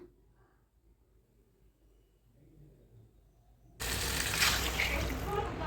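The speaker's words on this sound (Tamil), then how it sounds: "நண்டு வேக வைக்க தண்ணி ஊற்றிக்கலாம்" Water pours into a pan of sautéed crabs for a Tamil-style crab pepper fry, starting suddenly after a quiet stretch of faint kitchen noise and continuing as a loud, steady splashing rush.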